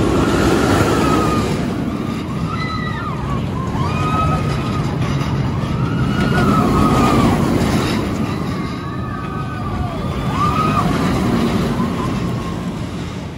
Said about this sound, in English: Just rode in Vertigo, the park's Inverted Boomerang Coaster